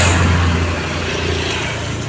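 Steady road traffic on a busy city street in Ponorogo, cars and motorcycles passing close by in a continuous rumble with no break.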